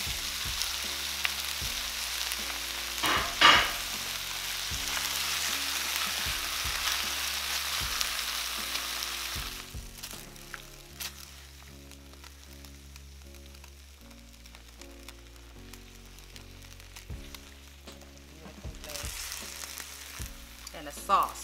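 Beef sizzles and fries as it is stir-fried in a thickened pepper steak glaze, a steady hiss with occasional stirring clatter, quieting midway and then flaring up again toward the end.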